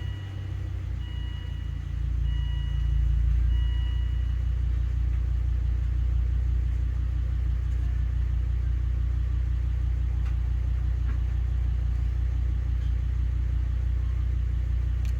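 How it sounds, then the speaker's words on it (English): A 2002 Volvo V70 2.4T idling after a start, a steady low rumbling hum that holds even and continuous throughout, recorded close with no talking. "start the engine and let it idle for 20 seconds."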